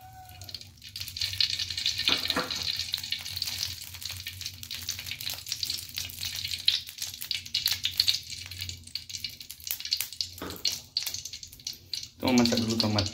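Cooking oil heating in a wok, a steady sizzling hiss with faint stirring clatter and a brief sharper splash near the end, voices heard now and then.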